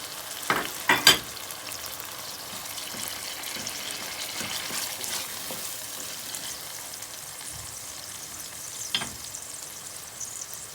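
Grated tomato added to a pan for meaty okra soup sizzles quietly and steadily, with a couple of sharp clinks near the start and one later, and no voices.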